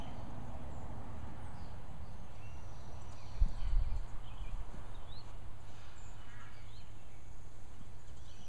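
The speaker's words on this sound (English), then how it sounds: "Here's our Appaloosa Tino grazing next to our neighbor's horse in his pasture" An Appaloosa horse grazes in an open pasture with a faint hoof thud or two near the middle, set against quiet outdoor ambience and distant birds.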